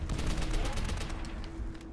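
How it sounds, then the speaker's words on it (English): Grenades and gunfire in World at War zombies on the Verruckt map, a dense continuous barrage of booming blasts and rapid shots, loud and sustained. "I'm going to throw some grenades down."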